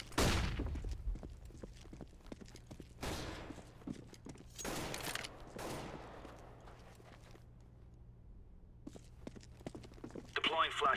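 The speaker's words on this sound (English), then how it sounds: "Deploying flashbang." A flashbang grenade goes off in Counter-Strike: Global Offensive competitive play, with several sharp, bright bursts that fade out over steady low in-game ambience.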